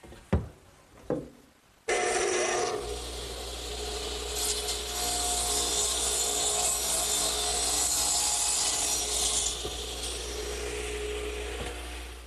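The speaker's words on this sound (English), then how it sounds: "Now with this setup, I'll be able to cut the bottoms of all my supports" A power saw cuts the bottoms of wooden garden swing supports. After a couple of sharp knocks, it starts with a loud whine and runs steadily for about ten seconds over a low motor hum, close by and uninterrupted.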